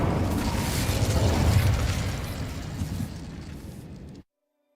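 Explosive Bombarda and Confringo spells cast in Hogwarts Legacy, a loud rumbling blast with crackling debris that swells, slowly fades over several seconds and cuts to silence near the end.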